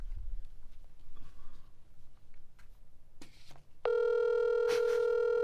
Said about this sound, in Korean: 한번 전화를 한번 걸어보시죠. 스피커폰으로.